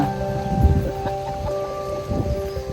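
Rain falls steadily in cold outdoor weather, a constant hiss with low rumbles beneath it, and a steady tonal hum runs through the whole clip.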